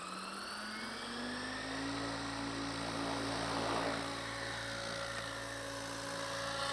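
A model helicopter's electric motor spins up on its maiden flight, a steady rising whine with strong harmonic tones that climb in pitch and hold, continuous and fairly close throughout.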